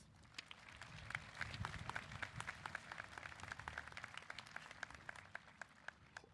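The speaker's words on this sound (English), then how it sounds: "Please honor them with a round of applause" Audience applause at the Moorpark College 2025 graduation ceremony, a fairly quiet, steady patter of many hands clapping for the Board of Trustees, sustained for several seconds in a large hall.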